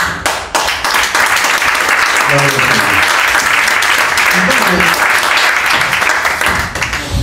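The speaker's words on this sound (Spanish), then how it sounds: "El fuerte aplauso de Jesús." A church congregation breaks into loud, sustained applause, dense clapping close and filling the room for several seconds, with brief voices underneath near the start.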